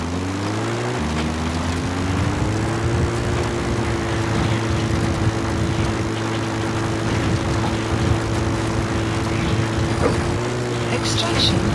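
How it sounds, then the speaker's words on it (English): A video game support helicopter arriving for extraction: its rotor and engine drone hums steadily and loudly, holding a constant pitch with a slight shift near the start and end. "Support helicopter Roger. requested."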